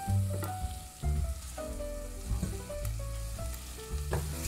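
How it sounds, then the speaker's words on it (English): A sweet potato and cooked quinoa mixture for a vegan Christmas roast is stirred in a sizzling pan, soft scraping and frying hiss with a few louder stirring strokes, close and moderately quiet. "Mix that up."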